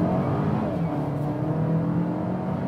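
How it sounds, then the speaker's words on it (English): A compact premium SUV, apparently a Volvo XC40, accelerating hard under full throttle in dynamic mode, its engine note a steady, loud, sporty drone with rising tone and tyre and wind noise throughout, no talking. "Let's first take a look at the acceleration, and we do some, let's say 30 to 80 or something, and just hammer it."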